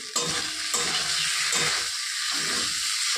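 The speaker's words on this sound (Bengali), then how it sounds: "পনিরটাকে একটু কষিয়ে নেব।" Paneer frying and being stirred in a spiced masala, a steady loud sizzle with spoon scrapes at intervals and no voices.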